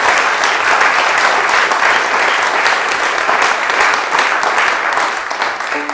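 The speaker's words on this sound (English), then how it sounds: "I'd also like to ask for an enthusiastic round of applause for all the volunteers" An audience at a live music show at Ashburton Arts Centre claps enthusiastically for the volunteers, a loud, dense, sustained round of applause that fades slightly at the end.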